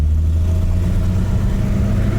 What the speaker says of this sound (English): You can hear the old 6-cylinder motor idling along